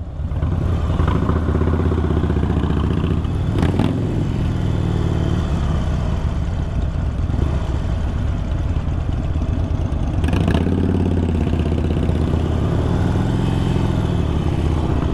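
A 2020 Harley-Davidson Iron 883 motorcycle engine runs steadily throughout, a continuous low rumble with clattering texture and a couple of brief louder bursts, heard close up with no talking.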